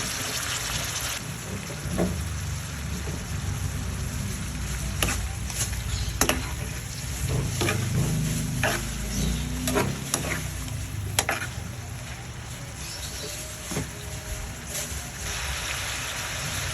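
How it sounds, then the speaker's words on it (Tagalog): Pork sizzling and frying in a pan with garlic and onion for adobo, with steady crackling sizzle throughout and repeated stirring and scraping strokes close by, no talking. "gigisa natin yan sa bawang at sibuyas para na talaga mas manuot yung lasa"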